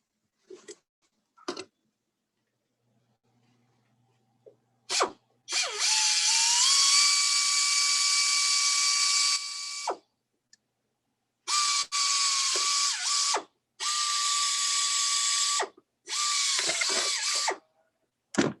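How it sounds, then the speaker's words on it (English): A power drill whirs in several long bursts drilling rivet holes, separated by pauses, with short clicks and taps between runs, loud and close. "So here we got a drill."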